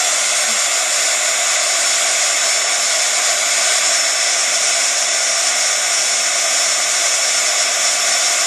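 A heat tool blows a loud, steady hiss of hot air without pause while melting embossing powder on a shrink charm.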